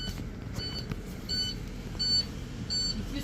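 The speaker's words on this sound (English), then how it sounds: "I'm going to turn off my bus and reset my child safety alarm." A school bus child safety alarm gives a series of short, evenly spaced electronic beeps while the engine rumbles steadily underneath, the tones moderately loud and repeating about every second.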